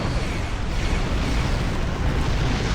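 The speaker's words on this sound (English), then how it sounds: "Firing torpedoes." Starship torpedo fire and explosions in the video game Star Trek Online rumble as a continuous loud, dense roar of booming blasts filling the whole moment.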